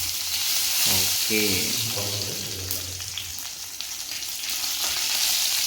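Dried red chillies sizzle and crackle in hot oil with popped mustard seeds, a steady close frying hiss with a short spoken word early on.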